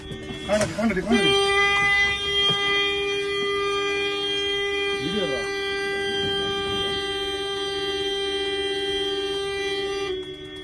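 A KSRTC bus horn blares in one long, continuous blast at a wild elephant on a forest road near Muthanga, Wayanad. The loud, steady tone holds for nearly the whole clip, with a brief burst of other sound at the start.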